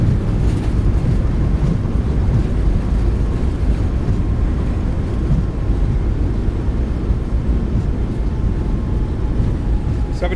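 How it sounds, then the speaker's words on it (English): Thrust reversers deploying on a Boeing 737 MAX 8 landing roll in a flight simulator, a loud, steady broadband roar of rushing air and engine noise that holds continuously throughout. "Goes down gently, reversers are out"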